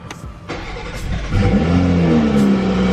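A BMW M340i engine running on E85 fuel cranks and catches on a cold start, then revs up loudly and settles into a rough, uneven idle, heard up close.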